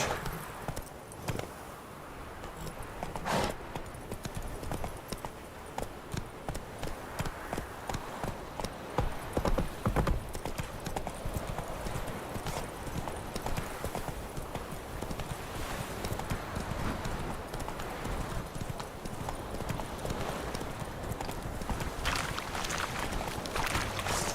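Horse galloping in The Witcher 3, a steady rapid clip-clop of hooves that runs loud and continuous over a busy game soundscape.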